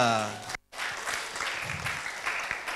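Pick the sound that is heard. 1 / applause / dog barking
applause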